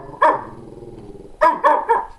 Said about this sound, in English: Why are you barking at it?